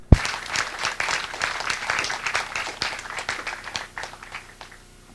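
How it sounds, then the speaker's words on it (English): Audience applause at a community discussion on Kauai, a steady spread of many hands clapping that starts sharply, holds, then thins out toward the end. "I'd like to give her a round of applause for how much work she's doing"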